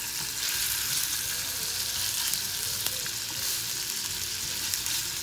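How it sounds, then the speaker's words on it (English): Skinless longanisa sausages frying in a pan produce a constant, full sizzle with fine spitting crackles, close and even in level from start to finish, without any talking. "you have to fry it first"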